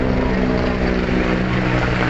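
Steady loud rotor and engine roar of a helicopter over a crowded area near Baclaran Church, filling the whole stretch without letting up and with no clear talk.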